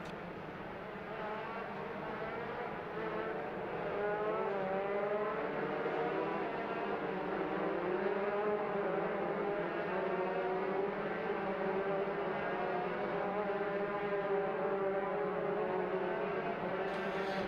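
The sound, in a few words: race cars driving toward turn 4 behind the safety car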